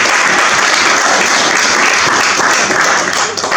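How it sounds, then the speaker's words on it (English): A loud, close round of applause from a political meeting audience in Dundee, dense continuous clapping that holds steady and eases slightly at the end. "I think we should get a round of applause for that"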